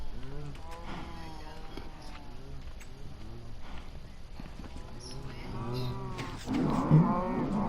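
Minecraft cows mooing in a video game, several low drawn-out moos spaced across the scene with faint clip-clop steps, quiet beneath a soft background, getting louder near the end.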